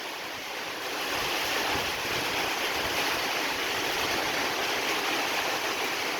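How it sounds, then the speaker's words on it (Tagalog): Strong typhoon wind from Typhoon Odette (Rai) roars in a dense, unbroken rush of noise, loud and steady throughout with no voices. "Grabe ang hapak sa hangin."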